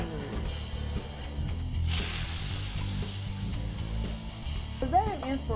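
Shrimp sizzling in hot, smoking canola oil in a skillet, a steady loud hiss running throughout with a brief surge of crackle, a voice briefly heard near the end.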